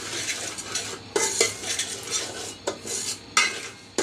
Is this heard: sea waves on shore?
no